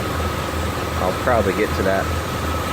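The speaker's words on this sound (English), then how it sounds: "Now I do have an exhaust leak." A 1991 Jeep Grand Wagoneer with an exhaust leak idles in a steady, low mechanical rumble throughout, while someone talks over it near the middle.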